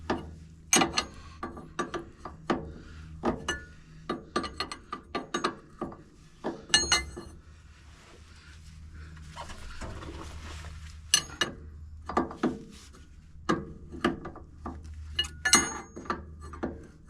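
A hand ratchet snugs down a hydraulic hose fitting on the front winch of an M936A2 military wrecker, with repeated close clicking strokes in bursts, a pause in the middle, and no talking.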